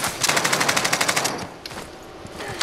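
Rapid automatic gunfire in Call of Duty Warzone on the Alcatraz map, a fast, evenly spaced burst of shots lasting about a second, then quieter scattered shots and rustling.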